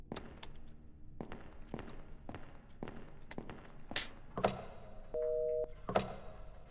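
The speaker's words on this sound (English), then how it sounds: "answering this phone again" A telephone in the game Phil In The Mirror sounds in short, clipped tones amid a run of soft taps and thuds, with a brief steady ring near the end, all fairly quiet.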